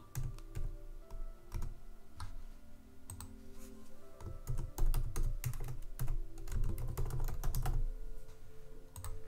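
Quick bursts of typing on a computer keyboard while entering text for a Cricut design, uneven clusters of close, crisp key clicks with short pauses between, and no voices.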